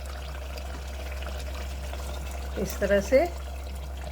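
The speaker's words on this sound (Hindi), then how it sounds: "अब इसमें हम थोड़ा सा पानी ऐड करेंगे" Water poured into mutton korma simmering in a pan, a steady, fairly quiet pour over a low hum, with a person speaking briefly near the end.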